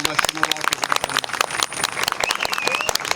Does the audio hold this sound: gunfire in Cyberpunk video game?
no